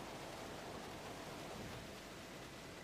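A steady broadband rush of falling water from a waterfall in the video game Bayonetta 3, continuous and fairly faint with no voices.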